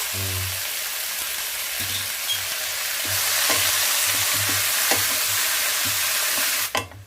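Spinach leaves sauté in a pan for palak rice, giving a loud, steady sizzle broken by repeated scraping and stirring strokes. No one speaks.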